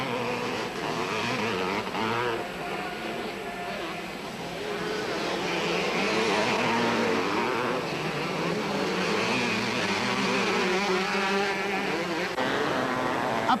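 Several 125cc motocross bikes racing at the 1988 Motocross des Nations at Villars-sous-Écot, a continuous buzzing engine whine that rises and falls as the machines pass, with commentary talk over it.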